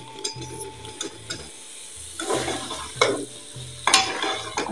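Turnips being stirred into masala frying in a pan, a soft scraping and sizzling with three or four stirring strokes and a low steady hum beneath, no voices.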